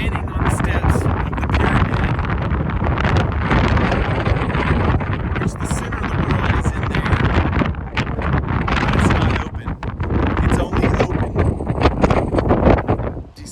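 Strong wind gusting across the steps of a pyramid in Southern California, buffeting loudly and continuously with heavy rumbling blasts and roar for the whole stretch.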